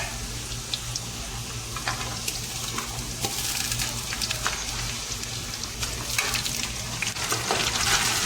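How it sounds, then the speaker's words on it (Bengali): Onions frying in a pan with garam masala and dried black lemon for an Arabic madgoot dish, a steady close sizzle with occasional stirring scrapes running throughout, no voices. "এখন আমরা ধীরে ধীরে পেঁয়াজের ব্রাউন কালার আসার আগ পর্যন্ত আমরা ভাজতে থাকবো"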